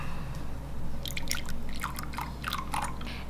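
Ice-cold water poured onto agar-agar powder in a home kitchen while making layered coffee jelly, heard as a series of soft, close drips and liquid splashes with a steady hum beneath.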